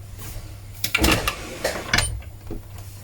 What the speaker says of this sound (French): Et on coud au point droit, tout simplement.